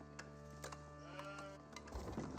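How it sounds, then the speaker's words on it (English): Sheep bleating in Age of Empires 4, a few short calls over a steady tonal game soundtrack, with a brief thud near the end. "Sheep has been obtained."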